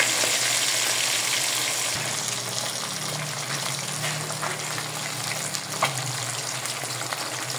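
A steady, loud sizzle of fish frying in plenty of cooking oil, continuous crackling with no talk over it.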